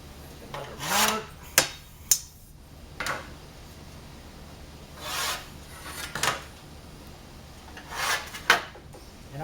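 A line being marked on a PC window panel, giving several rough rasping strokes of about a second each, spaced irregularly, along with a few sharp clicks, close and fairly loud, with no talk.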